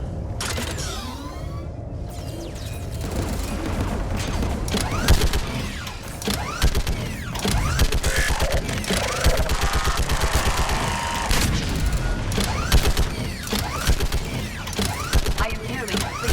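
A mounted anti-aircraft gun in the video game Mass Effect 3 fires in heavy, continuous bursts, loud and close, with rapid repeated blasts and mechanical clanking running through the whole stretch.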